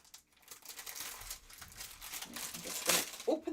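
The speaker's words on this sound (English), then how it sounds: "Sorry about the rustling near the microphone." Paper and card rustle and crinkle right beside the microphone during a card-making session, a continuous close scratchy crackle that builds to a louder crunch near the end.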